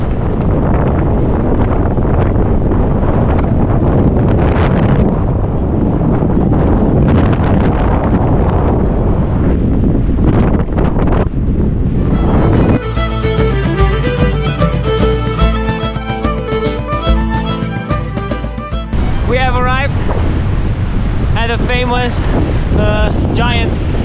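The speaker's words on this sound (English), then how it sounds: "The wind is blowing like crazy." Strong wind on the Irish coast roars and buffets the microphone loudly and continuously, later joined by a stretch of tonal, music-like sound.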